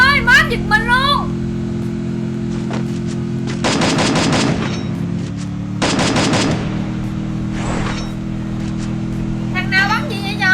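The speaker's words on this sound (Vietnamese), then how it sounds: "Nó bắn súng sạn mày ơi, má giật mình luôn." Automatic gunfire in the Garena Free Fire video game comes in two rapid bursts, each about a second long, under a continuous musical drone, while someone talks excitedly before and after the shots.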